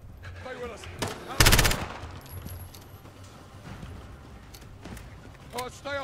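Call of Duty Modern Warfare gunfire: a loud burst of rapid shots cracks out near the start amid a few scattered single shots, while radio-style voices talk over the battle.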